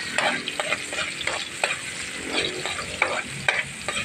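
Rice and tomato fry together in a pan, a steady sizzle broken by repeated scraping strokes of a spatula stirring at close range.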